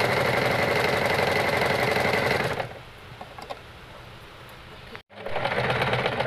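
An electric sewing machine runs at a steady fast rattle while stitching the seam of a small fabric bag, stops abruptly, goes quiet briefly, then starts whirring again, close and loud.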